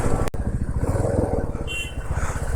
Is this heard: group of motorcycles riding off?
yes